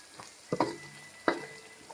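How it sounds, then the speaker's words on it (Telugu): Chilli powder fries in oil for a fish curry made with a large gandi fish, a faint, low sizzle broken by two sharp spoon scrapes or clinks against the pot, with no voices. "కారం కూడా ఆయిల్లో మంచిగా ఫ్రై అయిందండి."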